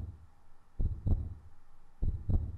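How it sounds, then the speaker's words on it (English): Heartbeat effect in a horror video game, two slow thumping double beats, lub-dub pairs about a second apart, deep and moderately loud with no talk over them. "Is that my heartbeat?"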